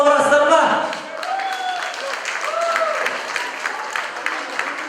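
Guests at a 60th birthday jubilee party clap in a moderate burst of applause, which fades to scattered claps beneath a host's voice over a microphone.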